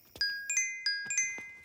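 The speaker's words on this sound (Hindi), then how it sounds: "रिंग जा रहा है, रिंग जा रहा है।" A phone rings with a bright electronic tone, a few quick chiming notes in short bursts. It is fairly faint, with no talking over it.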